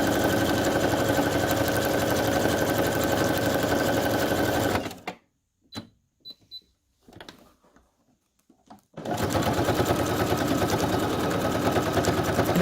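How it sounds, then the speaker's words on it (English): A sewing machine stitches through handmade journal tags in steady bursts, running loud and close for about five seconds, pausing with a few faint clicks and taps, then starting up again for several more seconds. "So I'm going to just sew through them."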